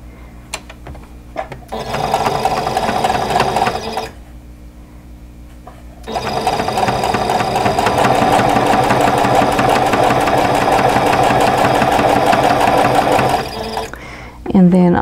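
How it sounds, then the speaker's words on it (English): Sewing machine chain-stitching quilt top pieces together with a quarter-inch seam, running loud and steady in two long stretches with a short pause between them, close up. "we're going to go ahead and sew the first two pieces of the top row."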